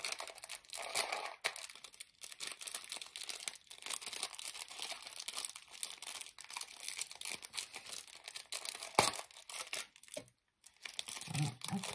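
Crinkly plastic packaging being opened around small fabric roses from an online haul, with steady close crumpling and tearing rustles running throughout and a brief quiet gap near the end.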